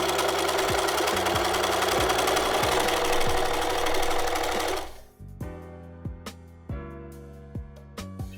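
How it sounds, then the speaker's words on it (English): Sewing machine stitching a bag strap seam: a rapid, loud mechanical whirr for about five seconds, then a series of short separate clunks and taps as the stitching stops and the fabric is handled. "we're going to back stitch, lock it in"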